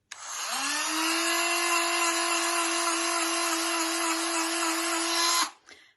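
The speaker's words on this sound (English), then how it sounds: "I'm going to use my Dremel when it's switched on and have it flat across the bottom of here" A Dremel rotary tool grinds a dog's nail, starting with a sharp switch-on and holding a steady high-pitched whine for about five seconds before cutting off abruptly, close and loud with no talking.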